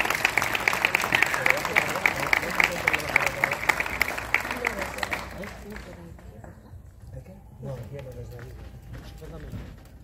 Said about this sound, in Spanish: por favor, un fuerte aplauso para él.